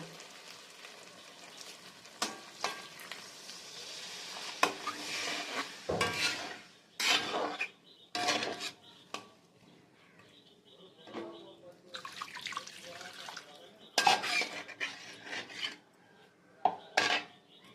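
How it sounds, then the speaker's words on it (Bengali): Water is added to a well-sautéed curry for pointed gourd paste fritters in a pan, heard as irregular bursts of splashing and sizzling with utensil clatter, separated by quieter stretches. "এখন আমি পরিমাণ মতো জল দিয়ে দেব।"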